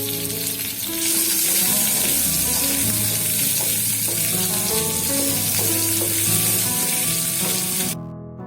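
Diced onion and groundnuts fry in a pan with a loud, steady hiss and crackle that begins after a moment, continues evenly, then cuts off abruptly near the end, with background tones.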